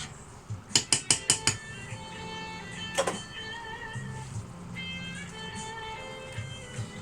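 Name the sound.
stirring a creamy garlic sauce in a pan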